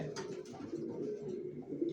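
Racing pigeons coo in a low, steady throaty murmur, several birds close by with soft overlapping calls and no voices.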